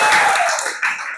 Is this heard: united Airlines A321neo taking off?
no